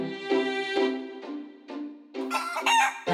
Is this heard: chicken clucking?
yes